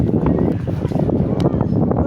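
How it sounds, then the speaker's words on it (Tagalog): Wind blowing outdoors at Luneta Park, a loud, continuous low rumble and buffeting across the microphone with no break. "mahangin-hangin dito"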